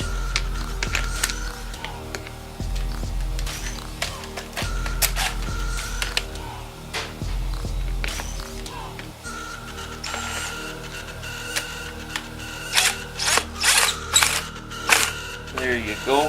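A screwdriver works a screw by hand, giving a run of small mechanical clicks and ratchet-like ticks that grow sharper and louder toward the end, with a low rumble underneath at times.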